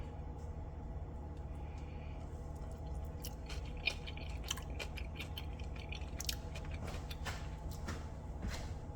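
Someone chews a bite of stuffed poblano pepper filled with cream cheese, mushroom, Swiss cheese and boudin, giving soft, moist, squishy chewing sounds close to the microphone over a low steady room hum.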